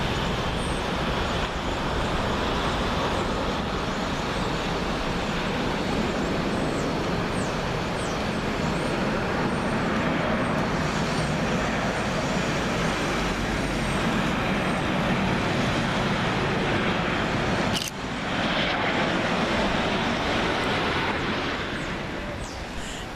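Ryanair Boeing 737-8AS arriving on runway 23R at Manchester Airport, a loud sustained broadband jet roar heard from the Terminal 3 car park, steady throughout with a brief click near the end.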